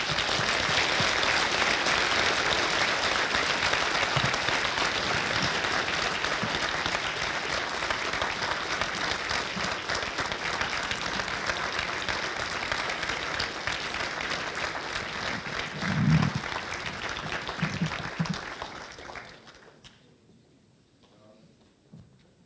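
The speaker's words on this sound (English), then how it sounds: "I would like you to applaud as much as you can for him, to ask him to the stage." An auditorium audience applauds loudly and continuously to welcome Nobel laureate Gérard Mourou to the stage, a dense roar of clapping that gradually thins and fades out near the end.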